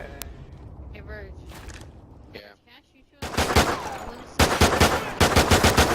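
Rapid bursts of pistol fire in an online shooter match, several clusters of sharp shots growing louder and denser toward the end, with talk over the earlier part.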